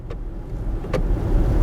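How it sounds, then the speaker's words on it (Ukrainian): An Audi e-tron electric car driving in sport mode gives a steady low road and motor rumble at moderate level, with two brief sharp clicks and no talk. "Але от поки ми оце от газували туди-сюди"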